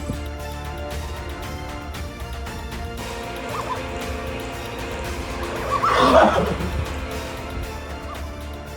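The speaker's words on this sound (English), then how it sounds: "Donkeys on US farms trip over active electric fences, scream and run away." Donkeys on a US farm scream after tripping over an active electric fence, a loud braying burst swelling around the middle of a steady noisy farm background, then fading.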